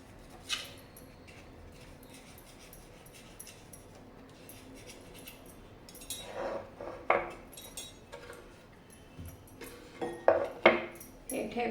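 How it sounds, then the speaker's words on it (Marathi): A knife is run around the edge of set puffed-rice barfi in a tray, giving faint scraping at first and then a run of clustered metallic scrapes and taps that grow louder toward the end. "सुरी बघा पहिला अशी छान अशी फिरवून घेते"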